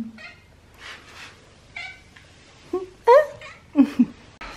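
A cat meows several times up close, with short, varied calls and a couple of louder, sharper meows toward the end, without any talk over them.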